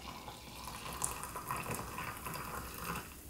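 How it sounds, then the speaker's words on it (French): Hot water at about 85 degrees is poured over green tea, a soft continuous splashing trickle, faint and steady with no voices. "Donc je verse toute l'eau."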